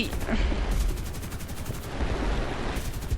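Aircraft machine guns and cannons firing in the War Thunder air combat game, dense continuous bursts of rapid gunfire that pause briefly and resume, loud and close.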